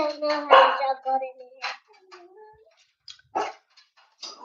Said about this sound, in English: Let me see if I can let these dogs out